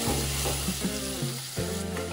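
Spice paste sizzles loudly in hot oil, a steady crackling hiss with a low hum and a few stirring scrapes underneath.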